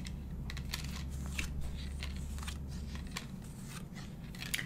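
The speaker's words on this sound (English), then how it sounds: "I shuffled these very thoroughly, as you heard me shuffle." Soft papery riffling and snapping of tarot cards handled close by, with brief crisp flicks over a steady low hum, no voices.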